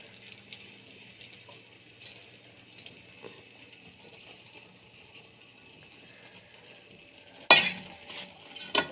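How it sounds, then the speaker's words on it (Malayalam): Hot tempered mustard seeds are poured onto an ivy gourd and jackfruit-seed thoran, giving a sudden loud sizzle near the end after a quiet stretch of faint kitchen clinks. "ഇനി നമ്മൾ കടുക് കാച്ചത് ഒഴിച്ചു കൊടുക്കാം."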